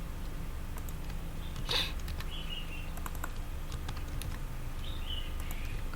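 Rapid computer keyboard keystrokes while copying and pasting with Ctrl C and Ctrl V during Google Forms editing, a steady run of light, close clicks at a quiet level with no talk.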